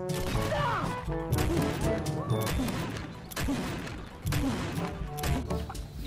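Toy cowboy revolver firing: a dense run of bursty clacks and crackling electronic gunfire bangs, with repeated loud pops coming close together at near range.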